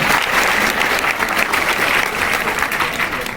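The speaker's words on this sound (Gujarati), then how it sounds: "એકવાર નેહા માટે તાળીઓ થઈ જાય" Students in a career guidance session clap for a classmate named Neha, a close, loud round of applause that holds steady before easing off slightly.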